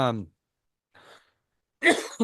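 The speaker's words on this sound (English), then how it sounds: "I still got a little bit of a cough" A short throat sound like a cough between stretches of quiet, with a voice starting up just before and after.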